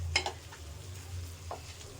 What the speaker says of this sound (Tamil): கொஞ்சமாக பால் ஊற்றி நல்லா மிக்ஸ் பண்ணுங்கள்